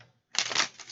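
Tarot cards cut and shuffled by hand, a short crisp riffling burst after a brief near-silence, close and moderately quiet.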